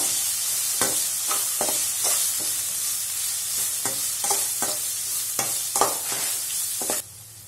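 Veg chow mein noodles with salt get stirred in a hot pan, a continuous sizzle punctuated by about a dozen rhythmic scraping strokes of the spatula, close and clear, ending abruptly with no voices.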